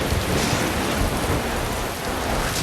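A heavy rainstorm with thunder pours down in a steady, dense roar, loud and unbroken throughout, with low rumbling underneath and no voices.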